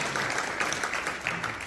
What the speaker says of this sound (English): one more round of applause for our soldier